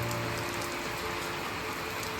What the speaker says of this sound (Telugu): నైట్ నుంచి ఫుల్ వాన పడుతున్నది.